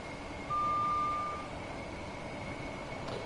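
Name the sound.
Class 387 train running in Train Sim World 2 video game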